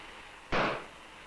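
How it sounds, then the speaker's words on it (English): A static-electricity spark ignites the explosion tube, giving a single sharp, loud pop with a short fading tail against a quiet background. "Charges induced onto the ball terminals of the explosion tube caused the ignition."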